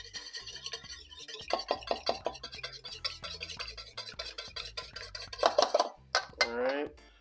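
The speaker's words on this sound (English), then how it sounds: "We're going to give it a quick whisk." A whisk clinks quickly against a bowl while mixing a small amount of liquid, in a series of light, rapid metallic taps that grow busier near the end, fairly quiet and close.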